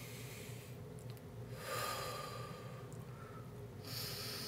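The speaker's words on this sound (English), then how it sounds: "Take a breath. Take a breath." A few slow, deep breaths are drawn in and let out nearby, soft and airy, with no talking.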